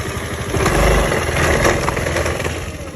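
A motorcycle fitted with an anti-vibration device is started and left running. The engine idles close and loud with a rapid, even pulse and a brief swell in level, and no one speaks.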